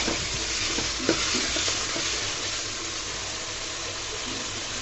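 Taro leaves (kochu shak) frying in a pan with dried red chillies, stirred steadily with a utensil that scrapes and rustles over a constant loud sizzle, close up and without speech.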